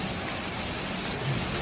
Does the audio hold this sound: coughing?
no